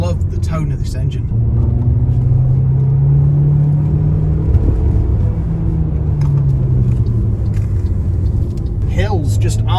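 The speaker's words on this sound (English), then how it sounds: "I do love the tone of this engine." An MG HS hybrid PHEV engine pulls up a hill with a sustained rumbling drone whose tone rises, dips and rises again, close and loud over constant road noise inside the cabin.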